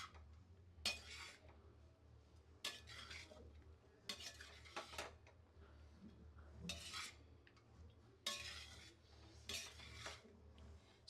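Spoon repeatedly scraping and clinking against a steel vessel while pulihora tamarind rice is stirred and mixed, bursts of stirring coming in irregular strokes over a steady low hum, close and fairly quiet, with no talking.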